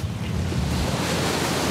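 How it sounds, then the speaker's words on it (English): Steady roar of ocean surf rolling in around four-foot waves, close and loud, with wind buffeting the microphone and no voices. "There's like 4 foot waves here"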